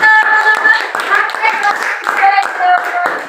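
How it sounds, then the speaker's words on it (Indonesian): Children in a classroom clapping together for a classmate group, steady brisk rhythmic hand claps close up, with some voices mixed in. "Tepuk tangan untuk kelompok 3."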